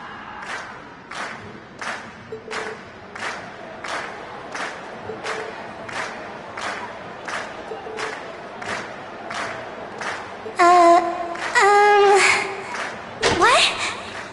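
Cheering crowd at a concert in the video game Trails of Cold Steel, a steady roar of voices with repeated rhythmic bursts like clapping or chanting, joined by brief louder tonal calls near the end.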